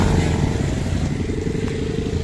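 A motorcycle rides along during a Republic Day flag march ride in Chandigarh. The engine drones close and loud and steady, with a rough, throbbing pulse.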